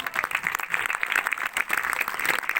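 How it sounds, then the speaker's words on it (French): Applause from the audience at an inauguration ceremony with speeches, a steady, moderately loud spread of clapping that holds across the short moment. "Merci de l'applaudir chaleureusement."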